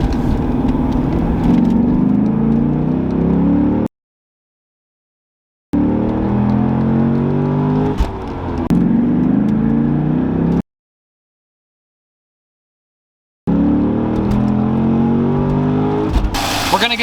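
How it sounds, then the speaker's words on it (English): A naturally aspirated V8 car fitted with a cold air intake accelerates hard in second gear from about 25 mph, its loud engine roar rising in three separate bursts broken by silent gaps. "Second gear, we're gonna be at about 25 miles an hour, and we're gonna punch it"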